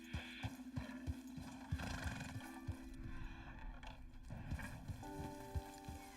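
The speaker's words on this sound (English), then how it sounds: "I need to make sure that the horse can keep up." Hooves clip-clop steadily from a horse in a video game, a run of regular close thuds with a brief whinny-like tone near the end, set against a faint game backdrop.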